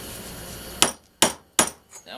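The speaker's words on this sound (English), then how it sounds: "You want to hammer back behind the horn." A hammer strikes metal three times in slow succession behind the horn while shaping a rake handle exhaust, each blow a sharp, close, ringing clang with quick decay and a faint background hiss between.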